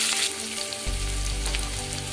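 Green chilli and onion frying in oil in a pan, a close, loud steady sizzle with a deeper rush as the mixture is stirred.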